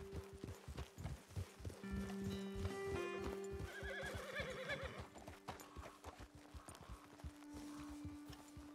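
Horses in a video game, with hooves clip-clopping in a steady walking rhythm and whinnies and neighs rising over them. The sound is close and clear, and no one speaks.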